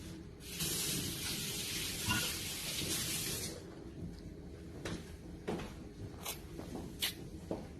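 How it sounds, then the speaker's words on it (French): Running tap water pours loudly in a home kitchen while hands are washed mid-way through making a chocolate dessert, lasting about three seconds before stopping, followed by a few quiet clicks and knocks. "je vais me laver les mains"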